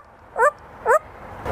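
A parrot imitates a dog barking, giving two short, pitched bark-like yelps about half a second apart, close and fairly loud over a quiet room.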